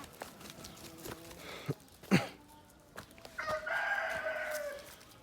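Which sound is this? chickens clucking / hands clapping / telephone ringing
chickens clucking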